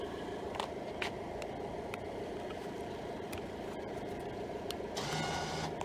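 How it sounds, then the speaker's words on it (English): An EX6000 Viper Elite winch lowers a load with a faint, steady mechanical whir and hum. Occasional light clicks and ticks sit over it, and a slight rise comes near the end. "You can even tell by the sound of that winch."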